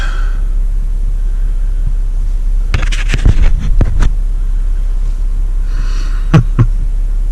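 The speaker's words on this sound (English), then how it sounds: "we got a garbage truck" A garbage truck passes along a rural home road, a few loud rumbling, scraping bursts rising over a steady low engine drone, then a fainter second burst as it moves off.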